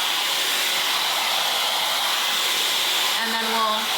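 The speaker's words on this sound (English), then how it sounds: "So we're just gonna dry the hair like this first" A hair dryer on high heat runs steadily close by while drying curly hair, a loud continuous whooshing hiss with a faint whine rising near the end.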